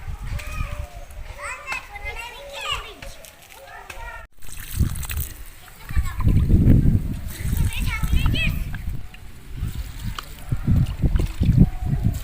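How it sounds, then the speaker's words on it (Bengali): Water splashes and sloshes onto vegetable plants in a home garden, a loud, close, uneven pouring that grows heavier partway through, with children's voices and chatter heard over and around it. "আমি এদিকে একটু সবজি গাছে জল দিয়ে দেবো"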